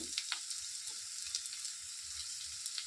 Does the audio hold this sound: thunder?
no